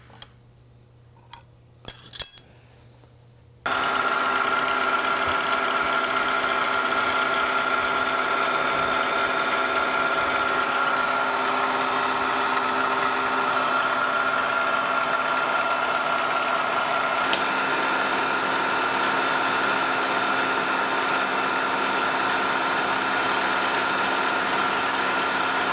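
Steady machine hum and whirr from a milling setup cutting a double keyway into a Syracuse spindle sander arbor, running continuously after a few brief clicks and knocks.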